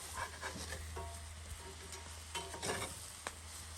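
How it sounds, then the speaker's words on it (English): Mushrooms and potatoes stirred in a cast iron pot over an open wood fire, with a few soft scraping strokes over a steady low sizzle and the hum of the fire throughout. "We'll give those mushrooms and potatoes a bit of a stir so they don't burn."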